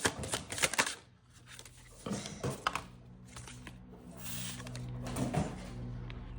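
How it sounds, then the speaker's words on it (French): A deck of tarot cards is shuffled by hand in a quiet room, giving several close, crisp riffling bursts separated by short pauses. "alors je tire les cartes"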